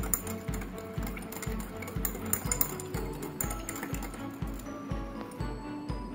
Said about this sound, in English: Now we put in 1 teaspoon of rice in cup C and stir it.